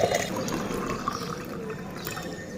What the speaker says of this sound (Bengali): আর এর সাথে আমি এখন দেব হচ্ছে জিরে পানি